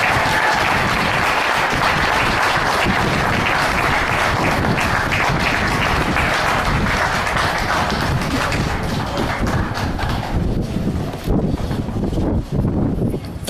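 An audience at a Tea Party address applauds to welcome speaker Jerome Tilghman, producing loud, dense, sustained clapping that thins only slightly toward the end.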